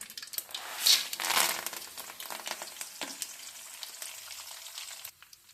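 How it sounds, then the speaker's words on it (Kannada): Tempering ingredients splutter and crackle in hot oil for lemon rice, dense popping bursts near the start that settle into scattered sizzling crackles, close and fairly loud with no voices. "ಮೇಲೆ ಹಾಕಿದ್ರೆ ಚೆನ್ನಾಗಿ ಚಟ್ಪಟ ಆಗುತ್ತೆ"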